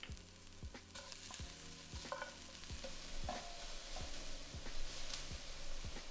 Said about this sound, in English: Now add in 2 cloves of minced garlic and fry,